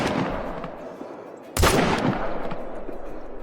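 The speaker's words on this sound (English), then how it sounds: "Kind of want to take a shot on the smaller one first." A single sharp rifle shot fired at a buck in the hunting game Call of the Wild, a loud crack midway through after quiet outdoor ambience, followed by a rolling echo.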